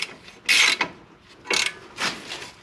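A ratchet clicks in short bursts while caliper bolts are run in on a Nissan Sentra brake job, giving three or four quick clattering spurts with brief pauses between them, close and clear.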